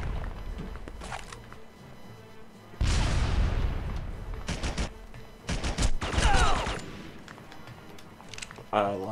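Gunfire from a weapon in the shooter game Red Faction II, bursts of rapid shots and heavier blasts in separate clusters, loud and close, with quieter gaps of game ambience between.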